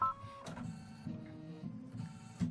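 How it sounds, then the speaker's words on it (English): An embroidery machine stitches out a quilt block in darker gold thread, a steady mechanical whir with a fast repeating chatter that runs on alone, quiet and close, with brief surges in pitch. "And let's stitch this out."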